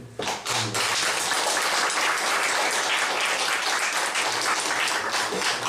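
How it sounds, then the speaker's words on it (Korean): A church congregation at a Sunday worship service claps together in sustained, loud applause that fills the room, steady throughout with no break. "우리 박수로 한번"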